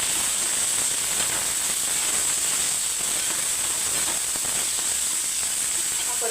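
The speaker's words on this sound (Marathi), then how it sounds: "त्यामध्ये आपण जो भिजत ठेवलेला तांदूळ होता तो तांदूळ आपण यामध्ये चांगल्यापैकी परतून घेऊया" Soaked rice sautés in a hot pan, giving a steady, even sizzle and hiss that runs unbroken throughout, close and moderately loud with no talking.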